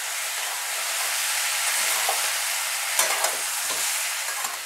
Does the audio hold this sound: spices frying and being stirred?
yes